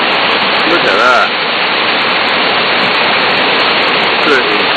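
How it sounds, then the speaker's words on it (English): Waterfalls at Milford Sound give a loud, steady rushing roar that fills the whole clip, with a voice faintly heard beneath it. "Yeah, some waterfalls. They're a beauty."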